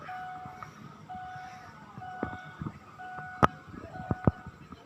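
Metallic gongs of a Chinese opera troupe practicing ring out from a distance, with a few sharp clashing strikes near the end over a low background hum.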